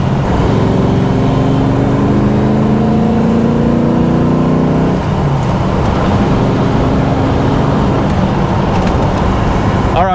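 An old Ford Falcon XD, heard from on board on the road, hums along with a steady engine drone and road roar, shifting in pitch midway as it changes speed.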